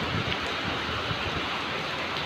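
Rain falls in a steady, close hiss with soft patters mixed in, even in level from start to finish, with no one talking.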